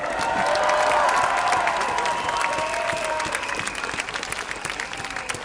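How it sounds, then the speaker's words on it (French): A crowd at a Paris street protest against compulsory COVID vaccination applauds Papé Biram with dense, sustained clapping that gradually thins out, with a bit of crowd noise mixed in. "On peut applaudir Papé Biram."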